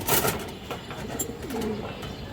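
A female pigeon at a Bangladeshi pigeon market gives soft, low cooing close by, with faint background noise and no talk over it.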